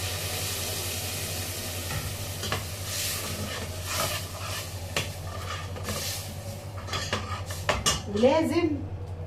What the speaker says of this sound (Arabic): فانا هنزل بايه بالطماطم